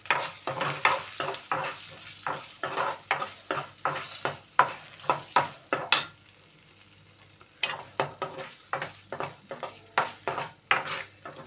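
Tempering with a pinch of turmeric for gongura pickle with sesame and dried chillies is fried in a pan, sounding as a soft sizzle under rhythmic, close stirring scrapes and clicks that pause briefly midway.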